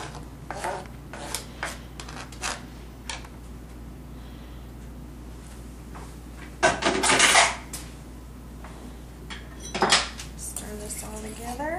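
Spoon stirring an agave-lime shrimp croquette mixture in a pot: scattered light clinks against the pot, a louder scraping burst about midway and another shorter one near the end.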